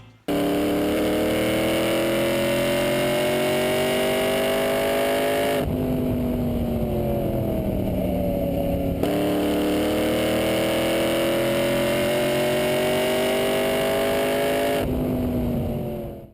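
The straight-eight engine of a 1927 Delage 15-S-8 Grand Prix car revs hard in two long sustained pulls to high RPM, each dropping off sharply between them. The whine is loud, close and continuous, with no voices.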